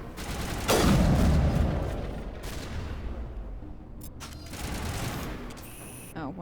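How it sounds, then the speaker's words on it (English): Rapid bursts of gunfire in the Mass Effect video game, a dense crackling volley that swells and fades over a few seconds with brief quieter gaps. "I don't even know what you guys are shooting at."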